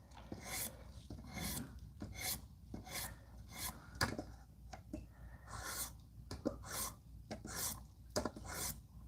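Knife blade sharpened on a fine-grit diamond stone with light pressure, a quiet rhythmic rasping of repeated gliding strokes, close and alone.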